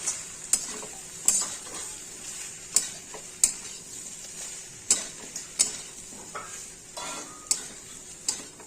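Fish head and jackfruit sautéing with spices in a pan, a soft sizzle under a series of sharp, regular metallic spatula scrapes and taps, close and unaccompanied by talk.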